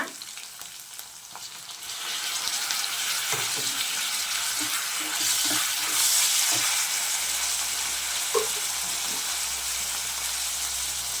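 Two tomatoes fry in a hot pan for a chicken curry, giving a steady, close sizzle with a few soft clinks and stirring sounds over it.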